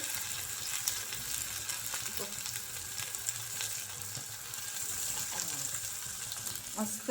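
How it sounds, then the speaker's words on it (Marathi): Masala-coated fish pieces, rubbed with ginger paste, turmeric, chilli and salt, fry in a pan with a continuous crackling sizzle and a few faint clinks, with no one talking. "मस्तपैकी मच्छीचा बेट फ्राय करते"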